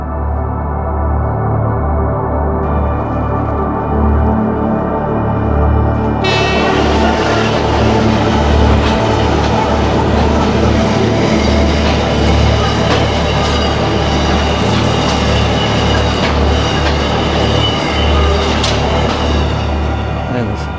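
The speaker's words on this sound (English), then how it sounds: "lot of room on the platform next to a big goods train like that." A big goods train rolls loudly and steadily past a station platform, a continuous close rumble and rattle of wagons that grows fuller after several seconds and carries on throughout.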